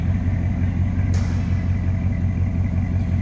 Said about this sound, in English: Nice little rumble coming out of 305.